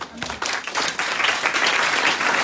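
A church congregation breaks into applause, a dense wash of clapping that swells and holds steady over a couple of seconds, fairly close, with faint voices beneath.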